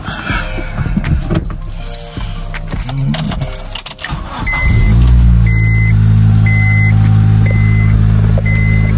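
A Volkswagen Jetta engine cranks and catches after keys jangle, then settles into a loud, steady idle rumble that fills the rest of the recording, with faint beeping tones above it.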